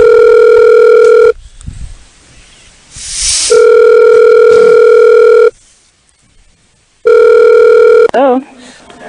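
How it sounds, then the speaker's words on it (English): A telephone dial tone hums steadily in long loud bursts, broken by pauses of quiet room noise and a few faint background voices, before a brief warbling ring tone near the end. "So, let me call up a Rowena again, and I'm not going to answer my phone."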